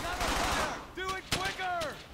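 Gunfire in the World War II shooter Brothers in Arms: Hell's Highway, a few sharp shots cracking out amid battlefield noise, with voices talking over them.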